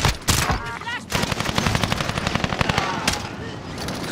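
Rapid automatic gunfire in a battle royale video game, loud and dense bursts firing almost continuously, with a player's voice talking over parts of it.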